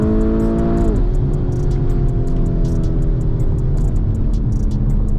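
A Nissan GT-R engine revs hard, a loud close roar that climbs and then drops sharply as it shifts, then carries on at a steady drone.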